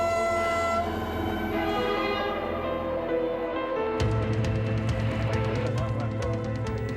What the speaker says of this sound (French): Petit klaxon.